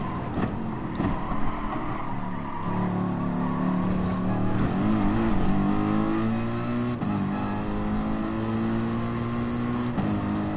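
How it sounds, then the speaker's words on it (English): A Mercedes AMG GT3 race car in the Gran Turismo Sport video game, its engine a steady, buzzing drone with rising and falling pitch through gear changes, plus occasional sharp clicks. "This is the Mercedes AMG GT3"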